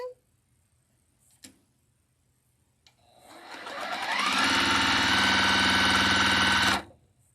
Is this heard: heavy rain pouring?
no